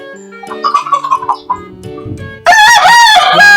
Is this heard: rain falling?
no